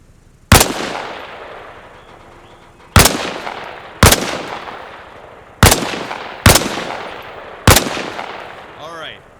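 A soldier leans out from behind a wall and fires in the military shooter Arma Reforger, six loud, sharp rifle shots spaced unevenly, each followed by a long echoing decay into quiet.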